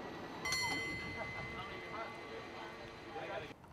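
A San Francisco cable car runs along its underground cable, giving a steady rolling, rattling rumble with a sharp metallic clank near the start and a few squeaks, close and continuous for a few seconds.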